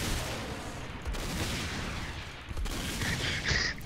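Auto shotgun gunfire in the video game Saints Row 4, a rapid string of loud blasts with busy game effects running under them and no talking heard.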